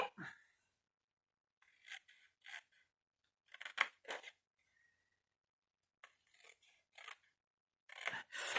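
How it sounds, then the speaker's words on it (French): Scissors snip out paper squares in a quiet room, with short bursts of close, crisp cutting separated by pauses. "Je découpe mes carrés."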